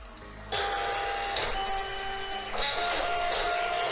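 A Silhouette Cameo 4 cutting machine whirs and hums steadily as it scans registration marks for a papercraft cut, its motor tone shifting between passes, close and loud with no talking.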